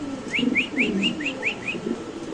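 A pigeon at a Bengali pigeon farm gives a quick series of about seven short rising calls, close and clear over a low murmur of cooing and background noise.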